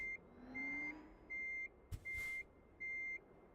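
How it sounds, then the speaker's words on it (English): In American Truck Simulator, an electric truck reverses with a loud, regular beep-beep alarm, five evenly spaced tones over a quiet motor hum, broken once by a short clunk. "it is time to back the rig up."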